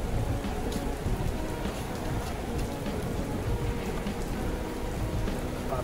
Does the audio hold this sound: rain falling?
yes